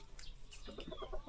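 Chickens cluck softly on a farm in Naga City, a quick run of short clucks close by, fairly faint, with no talk.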